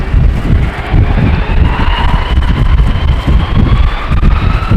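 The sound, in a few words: strong storm wind at Amsterdam Schiphol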